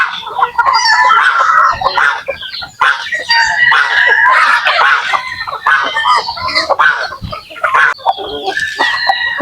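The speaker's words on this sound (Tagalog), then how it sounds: "Ito yung mga gansa natin mga idol" Farm geese call in loud, overlapping honks and clucking bursts close by, one after another, with a voice talking among them.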